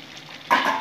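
Fried capsicum and onion drop into a hot pan with duck egg curry, setting off a sudden burst of sizzling after a quiet simmering hiss, the frying sound staying close and fairly loud until the clip ends.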